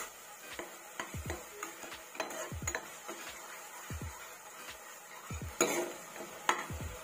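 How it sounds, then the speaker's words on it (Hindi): Spoon stirring yogurt into a pan of paneer masala, with repeated scraping strokes against the metal, light sizzling and a few clinks, close and moderately quiet, no talking. "अब इसमें हम जो दही लिए थे दही को डाल देंगे"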